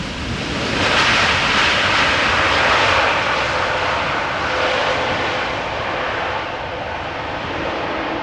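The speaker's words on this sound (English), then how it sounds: "So this was a Dreamliner arriving from Cartagena." A Boeing 787 Dreamliner arrives at Amsterdam Schiphol Airport, its loud broadband jet roar swelling and then easing slightly as it passes, with no talking.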